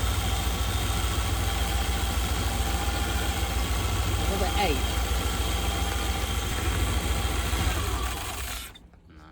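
A loud dragster engine idling with a rough, steady rumble throughout, a brief voice over it, then the engine cuts off abruptly near the end.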